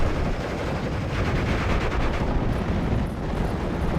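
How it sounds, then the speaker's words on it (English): Machine gun fire in the WWII strategy game Steel Division: Normandy 44, a dense continuous rattle of gunfire and rumbling battle noise filling four seconds, no talk. "That's a machine gun."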